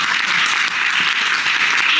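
Audience applause in a courtroom-style show: a dense, steady wash of clapping that holds at a constant level for the full two seconds, with no voices standing out.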